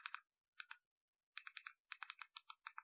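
Bursts of quick key clicks as a web address is typed on a keyboard, close and clear, coming in several short runs with brief pauses between them and no other sound.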